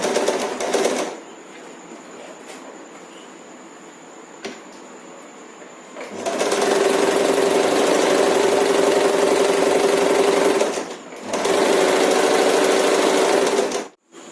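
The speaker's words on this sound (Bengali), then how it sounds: "পুরো লাইলিন বরাবর, লাইলিনের কাপড়টা বরাবর আমরা সেলাই করে নেব।" A sewing machine runs in two long loud bursts, stitching invisible piping along the lining of a blouse sleeve, with a quieter motor hum and brief pauses between runs.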